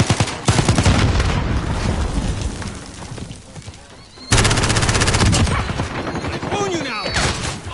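Dense automatic gunfire and bursts from a Call of Duty: Modern Warfare (2019) hardpoint match, loud and nearly continuous across the clip with a brief lull midway before the firing resumes, with game chatter underneath.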